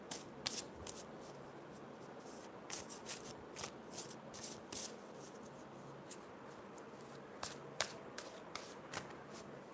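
Tarot cards being shuffled by hand during a card reading, soft repeated riffling and rubbing with sharp flicks, close and quiet with no talking.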